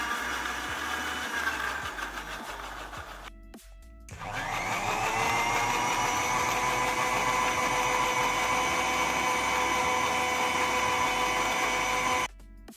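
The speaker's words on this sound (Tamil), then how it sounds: "நல்லா அரைச்சி எடுத்தோம்னா நமக்கு தேவைப்படுற திக் மில்க் ஷேக் தயாராகிடும்." An electric blender grinds a thick chocolate milkshake with milk, a steady loud motor whine that jumps to a higher, fuller pitch midway and runs continuously before cutting off abruptly.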